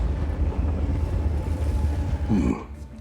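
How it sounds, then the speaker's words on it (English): A train rolls along desert tracks in the video game Just Cause 4, giving a steady, loud low rumble with continuous rail noise and a brief swell near the end. "We're taking the train."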